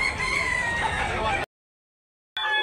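A gamecock crows loudly and close, one long sustained call, then a short silence before another crow starts, at a rooster seller's stall in Tabunok, Talisay, Cebu.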